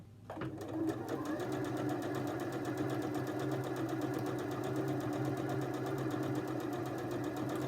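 A sewing machine stitches towel face wipes, its needle running in a fast, even mechanical clatter with a steady motor hum, close and continuous after a short start.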